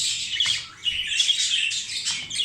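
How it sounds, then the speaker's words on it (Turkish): A 10-day-old pet parakeet chick chirping in a continuous, high, raspy begging trill, close and fairly loud with no talk over it. "10 günlük kuş bu."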